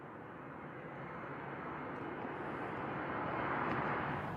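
A continuous, broad roar from a jet aircraft near London City Airport in the docklands. It holds steady and swells slightly louder as the aircraft approaches, with no voices.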